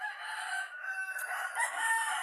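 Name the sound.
rooster crowing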